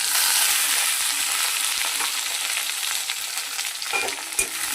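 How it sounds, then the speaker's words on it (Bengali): Peas and chopped tomato frying with onion in a wok give a loud, continuous sizzle with scraping stir strokes throughout, close up and free of talk. "এটা একটু ভাজা হবে, তারপরে মশলাটা দিয়ে দেবো।"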